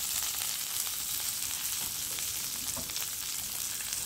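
Onions with curry leaves and a little salt sautéing in a pan for thiyyal, a dense, even, continuous sizzle close by with faint stirring underneath and no voices.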